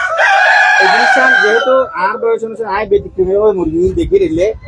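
A rooster crows loudly and close among chickens on a farm, one long crow followed by clucking and squawks from the flock, with people talking over it.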